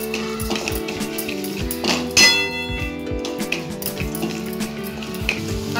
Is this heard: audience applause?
no